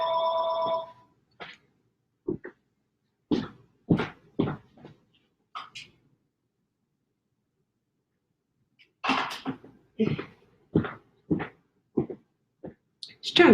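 A telephone rings briefly with a bright, tonal burst at the start of a live painting session, then falls silent as someone speaks in short, scattered phrases.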